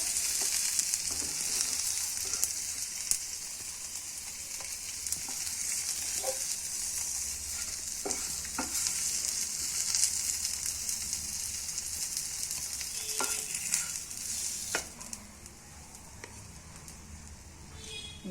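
Fish fries in oil in a pan, a broad steady sizzle with crackling pops and occasional utensil clicks running throughout.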